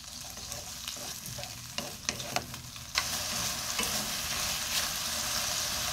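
Boiled lotus root slices hit a hot pan and fry, with scattered clinks and scrapes at first, then a loud, steady sizzle that fills the second half with no talking.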